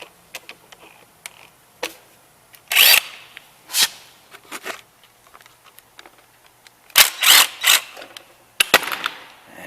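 Bursts from a power tool backing bolts out of a Cub Cadet 1650 four-wheel-drive tractor: short, close whirring spurts of varying length, scattered with small clicks and ticks of metal parts and handling between them.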